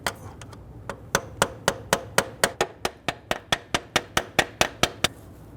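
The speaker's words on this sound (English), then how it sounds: "I'm going to put my screwdriver down here and just tap behind that mounting tab." A screwdriver taps repeatedly behind the mounting tab of a variable valve timing solenoid on a 2008-2013 Infiniti G37 3.7L V6, about twenty sharp, close metallic knocks in a quickening steady rhythm.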